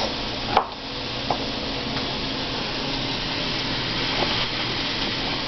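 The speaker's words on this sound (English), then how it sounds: "That's some good chopping skills you got there." A knife chopping garlic taps a cutting board a few times, sparse and fairly faint, against a constant droning hum in the background.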